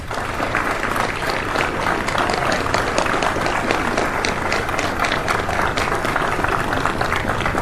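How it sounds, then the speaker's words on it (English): Sustained applause from a crowd at a Virginia shipyard event, steady dense clapping that holds at an even level throughout. "Give him a round of applause."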